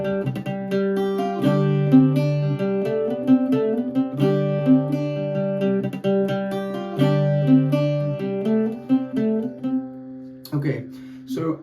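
Irish bouzouki plays a variation phrase from the jig The Hag At The Churn, with a quick ornamental triplet among ringing plucked notes over droning low strings, close and clear, ending in a brief spoken remark.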